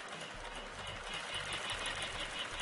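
An industrial sewing machine stitches thick, firm leather, giving a fast, steady mechanical whir with rapid needle chatter, continuous and fairly close.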